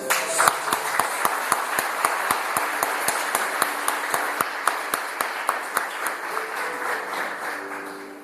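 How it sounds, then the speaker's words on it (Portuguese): A church congregation claps together on a Sunday evening, sharp hand claps falling in a steady rhythmic beat over a blurred crowd and faint tonal background, keeping an even pace until the end. "uma salva de palmas."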